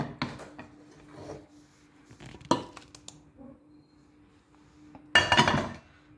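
Cooked gongura leaves are scraped from a pan onto a plate, with a few sparse scraping and clinking strokes of a utensil, closing with a louder, rougher scrape, close and without talk.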